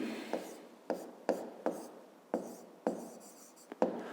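A pen scratches across paper in a series of short, separate strokes, each one starting with a sharp attack and then fading. The strokes come at an uneven pace and sound close and fairly quiet, with no talk over them.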